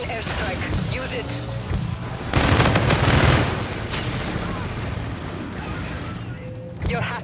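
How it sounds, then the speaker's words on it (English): Friendly Warden airstrike in a video game, a dense burst of explosive booms and rapid gunfire rising around the middle of the clip over ongoing battle noise, with voices talking throughout. "Friendly Warden airstrike."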